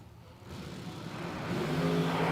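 Drag racing cars at a track's finish line roar past at a distance, engine noise swelling from faint to loud over a couple of seconds with a rising whine.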